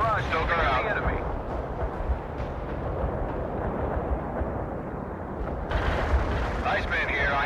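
An artillery barrage rumbles through the video game World in Conflict. Dense, continuous booms and explosions roll in the background, close and heavy, with radio-style voices speaking over the din.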